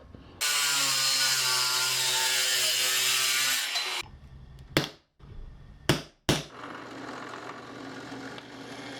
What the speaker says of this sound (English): Here I have a piece of scrap metal. I'm going to cut it to this size